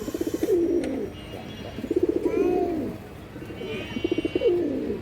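Hurricane-breed pigeon chicks coo in three rhythmic bursts of soft, throaty calls, close by, with faint chirps and background hum between them.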